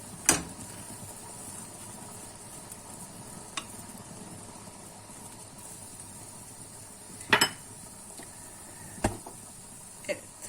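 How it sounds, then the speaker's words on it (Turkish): A spoon stirs mud cake halva dessert in a pot, with a steady low hiss and a few scattered metallic clinks and scrapes against the pot. "Kıvam alması için biraz karıştırın."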